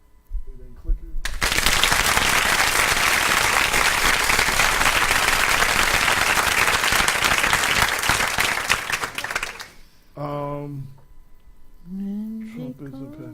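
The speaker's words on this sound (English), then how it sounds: "So, round of applause." Dense, loud applause sound effect on a radio show bursts in and roars steadily for about eight seconds, then cuts off as a voice begins talking.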